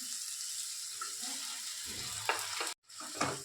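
Spiced keema with turmeric, salt and a splash of water sizzles and crackles steadily in a pan while being stirred and sautéed, with a brief pause near the end before the frying resumes.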